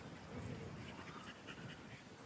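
A dog pants nearby, quick rhythmic breaths that stay faint and continuous throughout the short stretch.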